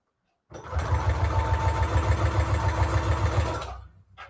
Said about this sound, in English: my sewing machine has a couple stitches